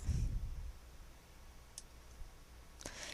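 A single quiet computer mouse click lands near the end, with a faint tick earlier, in an otherwise near-silent room while working on an engraved gold ring render.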